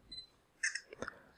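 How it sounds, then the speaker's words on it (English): A Sony QX10 lens-style camera takes a picture, giving a short electronic shutter sound made of a bright chirp and a quick click, fairly quiet and heard alone. "you no longer have to focus and then hit the shutter button in order to take a picture"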